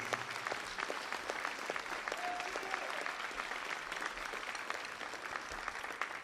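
An audience at an EPFA Champions Cup event applauds steadily, dense clapping from a mid-distance crowd holding an even level throughout, with no speech over it.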